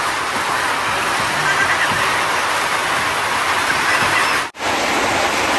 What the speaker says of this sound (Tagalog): At sobrang lakas ng ulan.